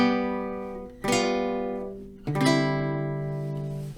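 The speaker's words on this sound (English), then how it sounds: "Chords are groupings of notes that are played at the same time" Three guitar chords ring out one after another, each a bright strum struck close by and left to sustain and fade before the next. There is no talking between them.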